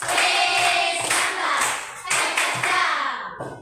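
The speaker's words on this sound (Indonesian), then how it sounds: "Oke, kita tepuk apresiasi." Schoolchildren in a classroom clap in appreciation for a group, several bursts of close, loud hand claps with brief pauses between them, ending abruptly.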